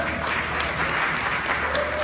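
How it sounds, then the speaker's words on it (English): Audience applause at a Fulton County public meeting, a steady dense wash of clapping held at an even level for the whole stretch, with a faint murmur of voices underneath. "Please clap for that."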